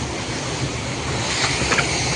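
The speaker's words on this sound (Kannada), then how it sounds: "ಚಿಕ್ಕ ಫಾಲ್ಸ್ ನೋಡ್ತೀರಾ? ಚಿಕ್ಕ ಫಾಲ್ಸ್ ಇಲ್ಲೇ ಇದೆ," A small waterfall pours over rocks, a steady broadband rush of flowing water close by, with some wind buffeting the microphone and no voices.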